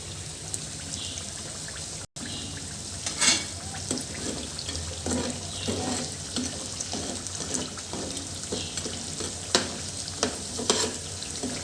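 Carrot and coriander fritters fry in oil in a pan, giving a steady close sizzle broken by repeated scraping and turning sounds, with one brief dropout near the start.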